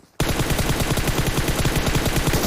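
Sustained automatic gunfire from a video game, a dense rapid burst of shots that starts abruptly and keeps going loud and close for the whole stretch.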